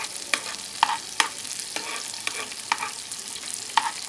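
White parts of spring onions sauté in a pan for beef samosa filling: a steady close sizzle broken by sharp utensil clicks and scrapes as they are stirred, with no voices.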